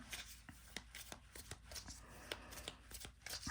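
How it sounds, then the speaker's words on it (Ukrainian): Quiet, close riffling of tarot cards being shuffled, with rapid soft flicks and taps repeating in an uneven rhythm. "Це карти Таро"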